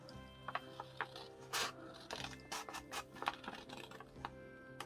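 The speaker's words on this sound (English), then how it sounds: "you're going to cut your center line up to here where the middle bit is" Scissors cutting along the center line of folded paper for a mini-zine, a series of close, crisp snipping and crunching sounds with irregular spacing.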